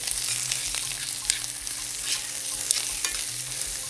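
Soft scraping of a utensil stirring vegetables, including celery, in a pot for Asian noodle soup, with a faint sizzle underneath and occasional light clinks.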